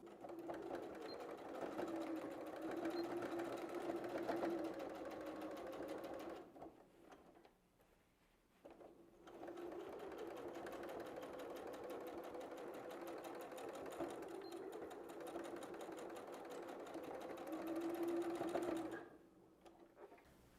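A home sewing machine stitches across the bottom of a fabric bag, running steadily in two long bursts with a brief pause between, loud and close with no talking.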